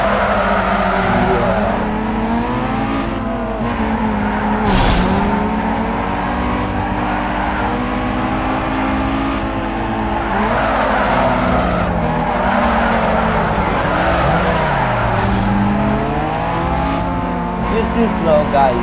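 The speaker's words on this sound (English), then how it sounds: "Superb drift." Racing-game car drifting in Need For Speed Underground 2, with a steady engine roar and squealing tires held through long slides, loud and continuous, while a voice talks over the action throughout.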